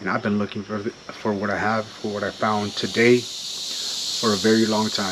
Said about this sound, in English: Hear the cicadas in the background.